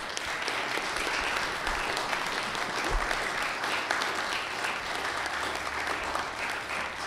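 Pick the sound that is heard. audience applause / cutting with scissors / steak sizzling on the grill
audience applause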